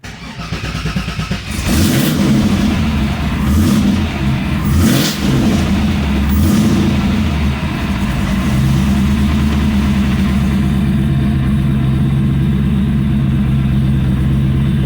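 LS3 V8 engine with 317 heads and an LS1 cam, revved a few times with loud rising bursts, then settling into a steady, slightly lumpy idle close by.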